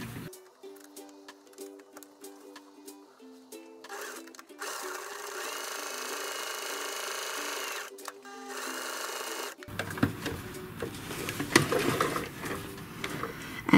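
Sewing machine stitching a side seam on a fabric storage basket for a bathroom, with short start-stop runs early on, then a steady sustained whir, and busier handling noise near the end.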